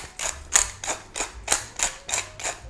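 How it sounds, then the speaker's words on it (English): Freshly cracked black pepper being ground over roasted carrots, as a steady run of eight crisp, evenly spaced grinder clicks, close and clear with no talking. "we're going to add a ½ teaspoon of freshly cracked black pepper"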